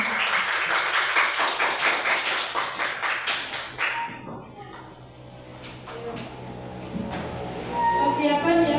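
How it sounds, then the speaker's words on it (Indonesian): A burst of clapping from a group in a classroom, loud at first and thinning out midway, then picking up again toward the end. "Beri tepuk tangan dulu"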